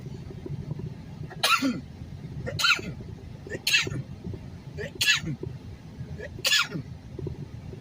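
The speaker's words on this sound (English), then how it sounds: "excuse me, I'm about to sneeze" A run of five sharp sneezes, evenly spaced about a second apart, close by, over a low background murmur.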